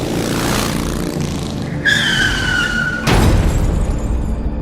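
A loud car engine roar with a sharp screech of skidding tires, then a sudden heavy impact and rumbling noise as the car crashes into a roadside electric pole.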